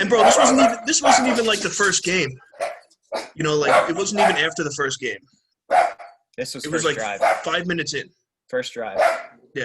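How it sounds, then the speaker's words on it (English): Dogs bark and yip excitedly in a home during a sports podcast, sharp bursts mixed in under steady conversation between men. "Excuse my dogs there too."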